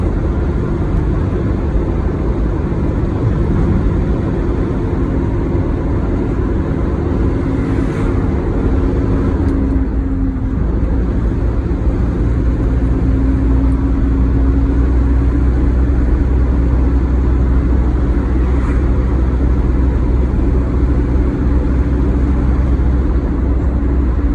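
A car driving on the road after a clutch replacement, with steady engine and road drone throughout and a brief dip around a gear change, loud and continuous with no talking.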